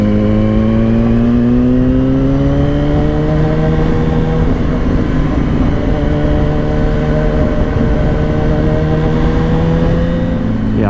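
2007 Yamaha R1 sport motorcycle ridden on the road, its engine droning loud and close with rising and settling pitch as it pulls through the gears, mixed with steady wind rush.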